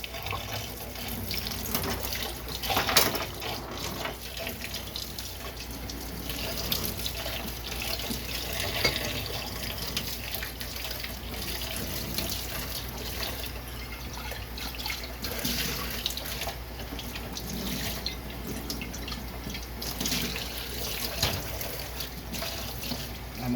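Tap water runs steadily into a lab sink while glassware used for phytoplankton culture is rinsed, a continuous close splashing stream with a few louder surges and no talk.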